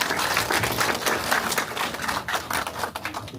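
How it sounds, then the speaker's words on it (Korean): A crowd applauds steadily, a dense wash of many hands clapping at once, holding even in loudness for the whole stretch. "박수로 모시겠습니다"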